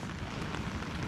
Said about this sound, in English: So it decided to rain a little bit later.